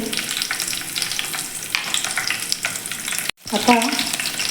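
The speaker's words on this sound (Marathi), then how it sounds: "एक पातेलं गरम करायला ठेवलेलं आहे त्यामध्ये तेल टाकून घेतलेलं आहे आता आपण त्यामध्ये जिरे टाकून घेऊयात" Cumin seeds and green chillies crackle and sizzle steadily in hot oil in a pot, with light stirring noises and a brief dropout before the frying resumes.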